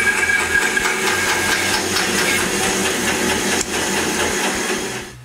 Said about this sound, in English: I cut all the pieces a little bigger and cut the special shape on the bandsaw